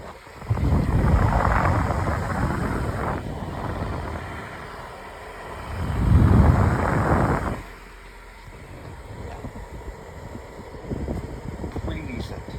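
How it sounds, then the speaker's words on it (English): A Sylvania 15-inch tower fan runs loudly, a steady breathy rush that swells in two strong surges and settles back to a lower whoosh, close to the microphone. "It sounds almost like a normal tower fan."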